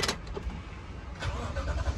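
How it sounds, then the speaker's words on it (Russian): A car with its front end smashed in, radiators crushed, cranks and catches into a low engine rumble over a couple of seconds, heard fairly close but quietly. "Она заводится, представляете?"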